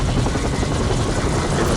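A helicopter in a Skibidi Toilet animation roars loud and close, a steady dense rotor wash filling the whole stretch without a break and with no voices over it.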